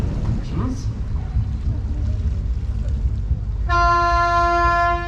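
A small ice cream tour boat on a quiet river stretch in York sounds a loud, steady tonal horn blast near the end, after someone speaks over rumbling engine and water noise.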